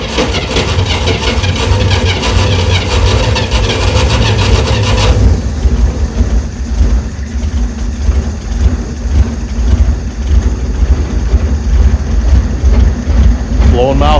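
A 1962 Corvair Rampside, after sitting for decades, cranks over and runs, its air-cooled engine holding a loud, steady mid-pitched idle with a denser burst of revving at the start.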